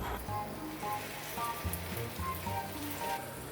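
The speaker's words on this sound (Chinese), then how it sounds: "锅内倒油，小火煎制" Pumpkin cakes made with glutinous rice flour pan-fry in oil over low heat, giving a continuous soft crackling sizzle with scattered tiny pops, close and steady throughout.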